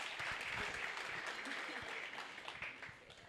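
Audience applause at a startup and venture capital talk, a dense, even wash of many hands clapping that holds for the whole stretch and tapers slightly at the end.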